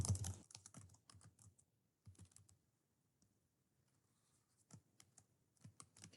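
Keys clatter on a computer keyboard in short bursts of typing separated by quiet pauses, close and fairly soft, with no talking.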